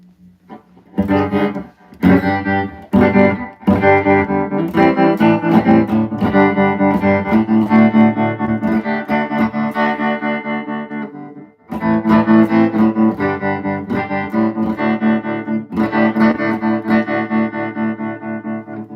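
Electric guitar played through an amplifier with two 10-inch speakers, heavily effected with distortion and chorus, strummed chords ringing loud and full, with a short break midway before the playing resumes.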